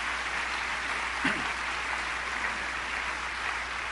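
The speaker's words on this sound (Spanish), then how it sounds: "¿Cuándo le dan un aplauso a Dios?" A congregation's applause at a church service gives a dense, even wash of clapping, faint and somewhat distant, steady throughout with a low hum underneath.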